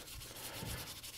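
Soap-filled steel wool scrubbing the bumper of a drag race Ford Fairlane, a steady close abrasive rubbing with a few stronger back-and-forth strokes, heard alone.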